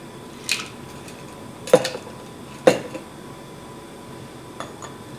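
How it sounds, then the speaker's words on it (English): A spoon is worked around inside a fine metal strainer holding liquid strained of mint leaves and cactus pear seeds, making three sharp metallic clinks against a quiet background. "You can use a spoon to help move it around inside the fine strainer."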